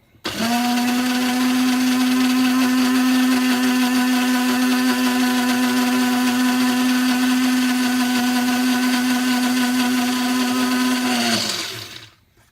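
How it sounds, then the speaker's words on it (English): A kitchen blender runs steadily at high speed, puréeing breakfast taco ingredients until smooth, its loud motor whine holding constant for about eleven seconds before spinning down to a stop. "So I just blended that up, made it nice and smooth."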